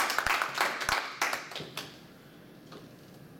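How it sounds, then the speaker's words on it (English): A small group claps for Jackie: a sparse scatter of separate handclaps over about two seconds that quickly dies away into a quiet room. "let's clap for Jackie"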